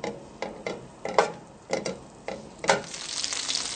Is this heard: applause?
no